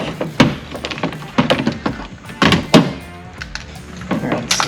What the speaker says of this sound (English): So we can open the door.